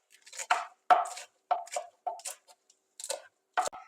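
A knife chops Swiss chard stems on a cutting board in a series of crisp, close, evenly spaced strikes with brief pauses between them.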